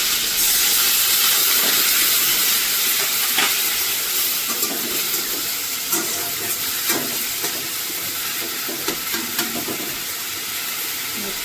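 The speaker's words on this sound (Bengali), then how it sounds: "দুটো মিনিট একটু এটাকে একটু ভালো করে ভেজে নিই" Onion paste fries in a pan with bay leaves, making a loud continuous hiss and sizzle near the microphone, broken by soft irregular taps and scrapes of stirring.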